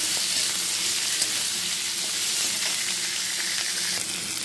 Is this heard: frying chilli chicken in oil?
yes